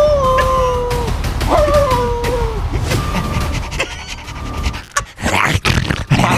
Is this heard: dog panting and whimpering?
yes